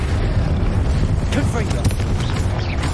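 A Confringo blasting spell explodes in Hogwarts Legacy. It gives a loud, rumbling boom with crackling debris that fills the moment, and a voice is heard alongside it.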